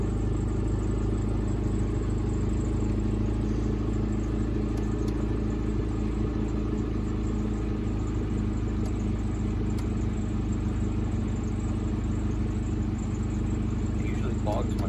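A work car's engine running steadily with a deep, continuous low rumble that holds throughout, close and fairly loud, with no clear revving.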